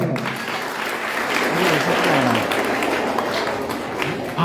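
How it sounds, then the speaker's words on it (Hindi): Students at a government school event clap loudly and continuously in a dense, close burst of applause that holds steady for several seconds. "एक बार इन बच्चों के लिए जोरदार ताली बजाओ।"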